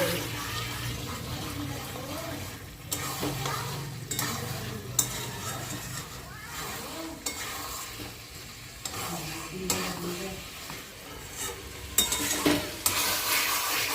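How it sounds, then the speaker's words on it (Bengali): Chicken and potato pieces sautéing in a pan for yogurt chicken, with a busy steady sizzle and frequent scraping, stirring strokes, close and fairly loud, brief faint voice in the background. "মাংস আর আলু আমার ভালোভাবে কষানো হয়ে গেছে"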